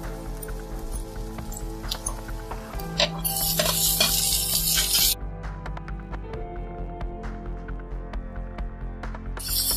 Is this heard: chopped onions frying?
yes